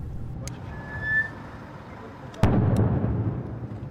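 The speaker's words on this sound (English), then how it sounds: "explosions echo through the near-empty streets" A sharp, loud blast with a rumbling echo that lingers, after a fainter earlier pop, through the near-empty streets of Bakhmut, Ukraine, with low background noise.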